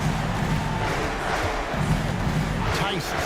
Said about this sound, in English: this gets the crowd energized